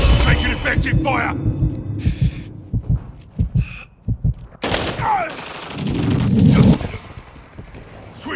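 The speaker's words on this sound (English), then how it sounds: "Taking effective fire." Gunfire in the Call of Duty Modern Warfare 2 multiplayer game: bursts of sharp, loud shots crack through the middle of the clip, mixed with in-game radio voice callouts and other battlefield noise.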